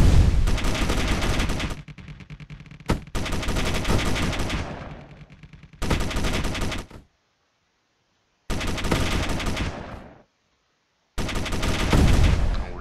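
A frigate's rear gun turret in the video game Space Engineers fires long, loud bursts of rapid automatic gunfire, broken by short pauses and stretches of silence.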